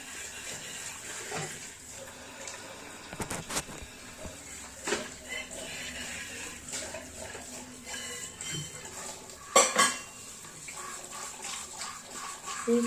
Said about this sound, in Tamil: எண்ணெய் பசை இல்லாத பாத்திரமெல்லாம் நம்ம இந்த மாதிரி கழுவி எடுத்துக்கலாம்